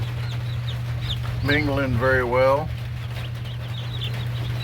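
Chickens cluck softly nearby over a steady low hum, with a brief burst of warbling bird calls in the middle and a person speaking briefly.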